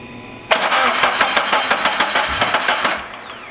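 Turbocharged Toyota FRS engine cranking over without firing, a loud steady starter whir with about a dozen rhythmic compression pulses for roughly two and a half seconds, then stopping.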